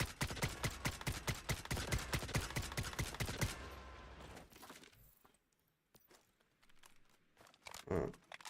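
SKS rifle gunfire in the game Once Human, a fast run of sharp close shots in steady rhythm for a few seconds, then quiet with scattered faint clicks and one louder thump near the end.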